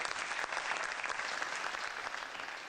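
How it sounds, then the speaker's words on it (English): A crowd applauds at the grand finale of a televised youth debate contest, with dense, steady clapping that stays fairly even and slightly distant for a few seconds. "a round of applause for all of you"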